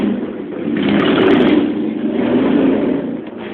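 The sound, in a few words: Harley-Davidson motorcycles revving outside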